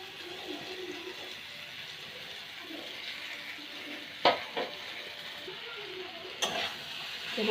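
Spices hit hot oil with a soft, continuous sizzle, broken by a few sharp clinks and scrapes of stirring close by, fairly quiet overall.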